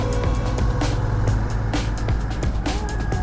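Busy road traffic heard from a moving motorbike on a commute: a dense, close engine drone and wind noise, with passing vehicles and brief horn-like tones cutting through.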